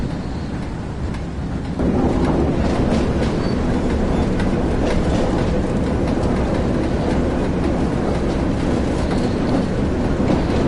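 Locomotive hauling freight vans coasting along track in Train Sim World 2020, a loud continuous rumble with rhythmic wheel clatter that swells after a quieter opening and holds steady.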